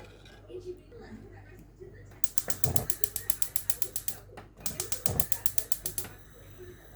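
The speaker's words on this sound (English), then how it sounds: "Let's turn on our gas." Rapid regular clicking from a gas stove igniter in a home kitchen, two bursts of about a dozen sharp ticks each, close and fairly quiet, with faint room noise between them.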